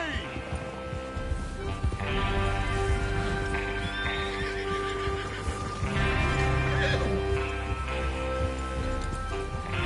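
Horses whinny and hooves clip-clop in Red Dead Redemption 2 gameplay, over steady rain and background music, with neighs rising clearly at intervals throughout.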